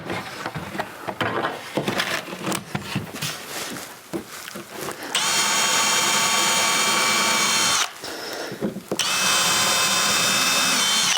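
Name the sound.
drilling pilot holes for an indoor ladder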